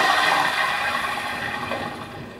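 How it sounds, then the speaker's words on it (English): In the space game Prey, a toilet flushes with a loud rushing swirl of water that starts strong and slowly tapers off, close and alone. "what happens if I flush?"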